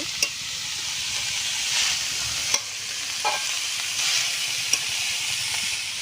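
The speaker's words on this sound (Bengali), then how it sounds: "এইভাবে আস্তে আস্তে মশলার সাথে মিশিয়ে নেব।" Shredded cabbage for a vegetarian cabbage ghonto is stirred with spices in a hot pan. A steady, loud sizzle runs throughout, broken by a few light scraping clicks of the spoon.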